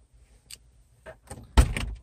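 A Jeep door swings shut with one solid thump near the end, preceded by faint clicks and rustles in a quiet cabin on a cold day.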